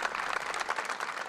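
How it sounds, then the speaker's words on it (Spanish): A crowd at a funeral for miners applauds the coffins, giving dense, steady clapping from many hands that stays fairly even throughout. "Al final, aplausos para los féretros de los fallecidos"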